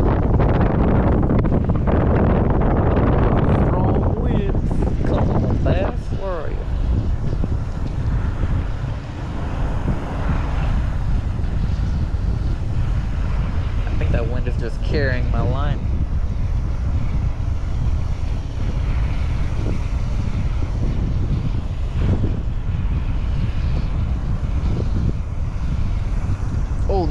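Strong wind at a pond while bass fishing, buffeting the microphone with a continuous loud rushing roar, plus a few faint clicks and handling sounds over nearly half a minute.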